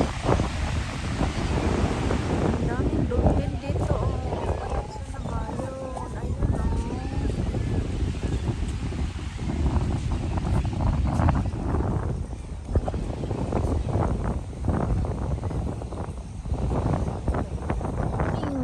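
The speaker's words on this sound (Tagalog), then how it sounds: "ang lakas ng hangin" Strong wind roars and buffets the microphone throughout while fishing by the water in Corpus Christi, Texas, a dense low rumble with water sounds underneath and a voice talking faintly over it.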